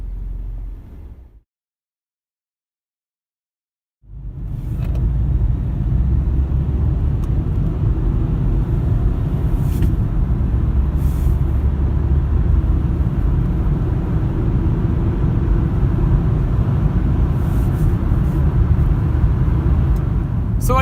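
A Hyundai i20 diesel car drives along steadily after a brief silence, its engine and road rumble low and constant at close range, with no talking over it.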